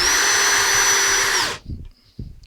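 A power drill drives a screw into wood, a loud steady motor whine for about a second and a half, then it stops, followed by a few soft knocks and handling sounds.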